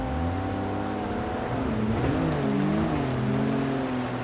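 An off-road car engine in BeamNG.drive revs and strains while stuck in mud, a loud continuous drone whose pitch rises and wavers as the throttle is held.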